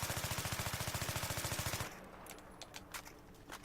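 Rapid automatic gunfire rattles in a steady, unbroken stream in the video game Battlefield 3, fired from a kneeling position, then cuts off abruptly halfway through, leaving a few faint scattered clicks and distant shots.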